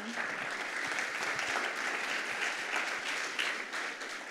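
Dense, sustained applause from an audience at a tech startup summit after pitches, a steady wash of many hands clapping at fairly close range for several seconds.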